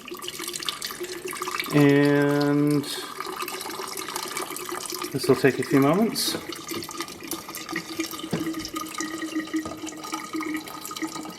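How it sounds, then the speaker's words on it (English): Vodka pours steadily into a glass jar for green walnut liqueur, a gurgling trickle with a rising fill tone, while a person talks briefly over it. "I'm going to pour the vodka over."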